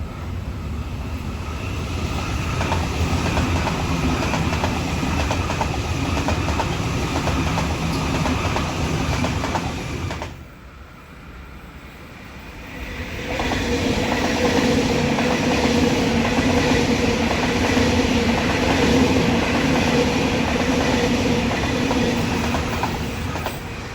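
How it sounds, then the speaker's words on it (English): A Sydney Waratah Series 1 electric train runs past on the up semi-fast service at Petersham, a loud, steady rumble of wheels and motors with clickety-clack rhythm, briefly dipping quieter mid-pass before the carriages roar on again, with no talking. "The Waratah Series 1 trains were introduced between 2011 and 2014."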